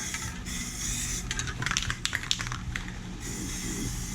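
Spray paint hissing onto a metal riding mower deck, a steady close spray with a few short sputtering bursts in the middle and no one talking.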